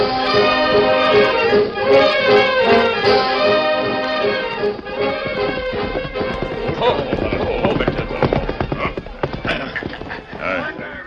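Radio drama sound effect of horses' hooves clip-clopping, a steady rhythmic trot of hoofbeats at the front of the mix, laid under music and background speech from the episode.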